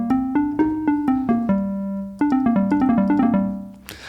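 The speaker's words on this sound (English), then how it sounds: "Now let's go to the square lead," A square-wave synthesizer lead plays a bright, buzzy melody of quick staccato notes, a short run, a brief pause, then a faster flurry, loud and alone.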